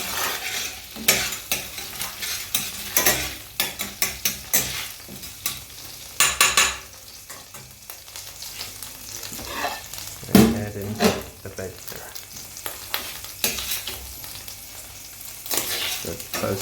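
Ginger garlic mix with crushed garlic sizzles in a hot pan, with repeated close scraping stirs from a utensil over a soft frying hiss.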